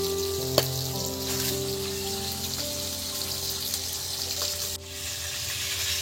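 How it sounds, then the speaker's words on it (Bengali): KFC-style chicken pieces in their second frying in hot oil over a clay stove, a continuous dense sizzle and crackle with a sharp tap near the start and a low background hum, steady throughout. "বন্ধুরা এবার এটা সেকেন্ড ফ্রাই হচ্ছে দেখুন বন্ধুরা। শুরু হয়ে গেল বন্ধুরা ডবল ফ্রাই।"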